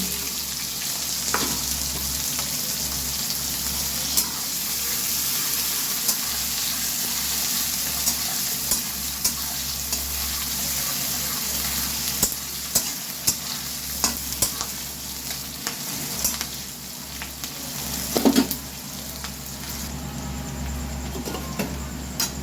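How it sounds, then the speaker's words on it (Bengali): Chopped onions fry in a pan with a steady, close sizzle and occasional stirring scrapes and clicks, continuing alone without talk throughout. "পেঁয়াজ কুচি ভেজে নিচ্ছি।"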